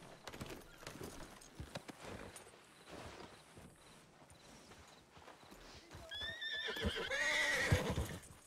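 In a roleplay video game set on a ranch, a horse's hooves clip-clop over ambient noise, then the horse gives a loud, rising neigh near the end; no one speaks.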